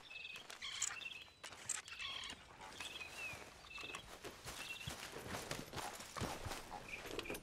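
Horse hooves clip-clopping on the ground in Red Dead Redemption 2: a steady, moderately paced walking rhythm at mid-distance, quiet, with birds chirping in the background.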